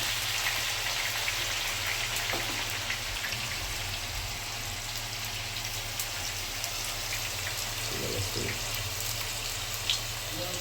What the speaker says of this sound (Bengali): এই তেলের মধ্যে আমরা পেঁয়াজ ভাজবো।